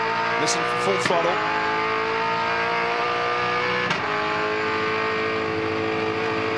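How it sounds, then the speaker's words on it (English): A Supercars race car at full throttle at Phillip Island in 2012, a loud, sustained high-revving engine drone that holds steady, with a brief sharp burst early on and commentary audible beneath. "Listen for full throttle."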